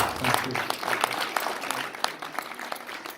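At a Ghanaian Pharmacists Association inauguration, an audience gives the Provost a round of applause, with dense, steady clapping throughout that is fairly loud and sustained.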